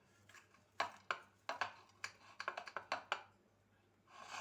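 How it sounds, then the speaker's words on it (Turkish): A knife cuts through a baked dish in its pan, giving a run of sharp, irregular taps and clicks against the tray, close by and fairly quiet, with short pauses between clusters. "Şimdi tavamızı kesiyorum."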